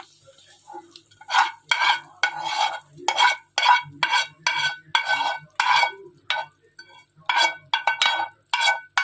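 A spoon scrapes and knocks around a pot in a steady stirring rhythm, thick spinach and mutton curry squelching with each pass, close and fairly loud.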